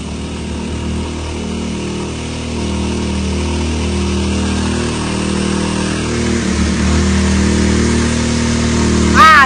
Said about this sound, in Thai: เร่งเครื่องพอกันค่ะ